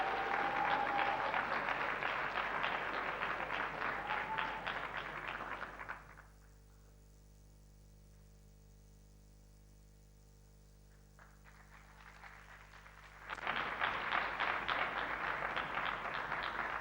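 Warm applause from the audience at the Africa Forward Summit 2026 welcomes a speaker. It breaks off into near silence for several seconds, then surges back just as full and steady.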